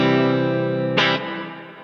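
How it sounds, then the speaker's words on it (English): A Flint guitar effects pedal on its 80 setting, mix turned up, plays a sustained distorted guitar chord drenched in reverb. A sharp accent is struck near the middle, and then a long tail slowly fades out. "got a little bit of color here for the reverb sound."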